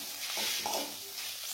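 Egg, spring onion and onion frying and being stirred in a pan for green-chili fried rice, a soft steady sizzle with light scraping of the spatula, close and fairly quiet.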